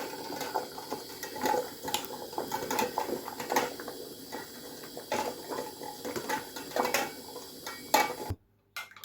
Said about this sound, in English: Whisking yolk and cream mixture.